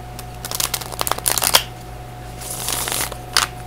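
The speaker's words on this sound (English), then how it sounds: "Okay din siyang i-shuffle." A deck of crisp story cards is shuffled by hand up close, giving quick riffling flutters and soft slaps in a few bursts separated by brief pauses.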